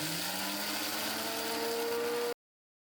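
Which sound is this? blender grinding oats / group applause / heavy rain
blender grinding oats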